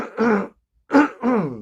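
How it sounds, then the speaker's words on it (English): Two short, harsh throat clearings close to the microphone, separated by a brief silence. "sorry to clear my throat here"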